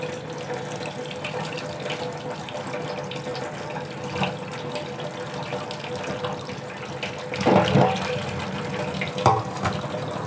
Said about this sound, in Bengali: এই যে ধোয়া হয়ে গেছে, আগে ধোয়া ছিল, তারপর আরও একটু ধুয়ে নিলাম